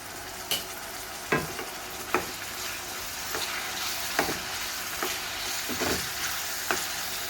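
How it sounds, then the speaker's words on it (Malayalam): Brinjal (eggplant) sautés in a little oil, giving a continuous soft sizzle with occasional sharp clacks of a spoon against the pan, close by, and no voices. "നമുക്കിനി ഇച്ചിരി എണ്ണ ഒഴിച്ച് കൊടുത്ത് ഇതൊന്ന് വഴറ്റിയെടുക്കാം"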